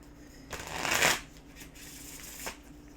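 Tarot cards being shuffled close by, a papery riffle that swells to a loud flutter and then settles into softer shuffling with one more brief riffle near the end.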